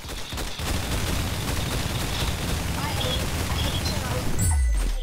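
Dense, continuous gunfire in the Roblox shooter Arsenal, loud and unbroken, ending in a low boom.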